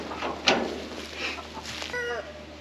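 A rooster clucks in short, soft calls close by, ending in a quick burst of chattering clucks, over faint background noise.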